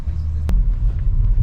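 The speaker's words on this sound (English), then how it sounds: "we about to drive through a tree" A car rolls slowly through a drive-through tree along the Pacific Coast Highway, a steady low engine and road rumble filling the clip, with one brief sharp knock near the middle.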